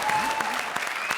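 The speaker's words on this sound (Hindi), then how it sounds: "ठोको ताली इसके लिए।" Studio audience applause on a Bigg Boss reality show set, a dense burst of clapping filling the short moment, loud and close with no talk over it.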